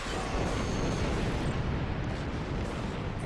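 A dense, continuous roar of starship weapons fire and explosions in the video game Star Trek Online, a loud sustained rumble without distinct breaks.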